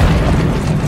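AC-130 gunship fire blasts a barracks in Call of Duty MW3, a dense, sustained low rumble of explosions rolling through the whole short moment with no clear gaps.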